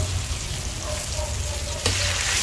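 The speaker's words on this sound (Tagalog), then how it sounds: "ilagay na natin ang ating pork stick" Pork chop for adobo-style steak sizzles steadily in hot oil in a home kitchen pan, a close, continuous frying hiss with a brief louder crackle burst near the end and no talking.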